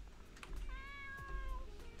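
A cat meows in the Dave the Diver video game, one long, clear, drawn-out meow in the middle over low game background rumble, with no talking.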